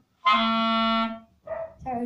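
A clarinet sounds a held note then two short notes from the Hot Cross Buns phrase, close and solo, with a thin reedy edge and a small squeak on the last note.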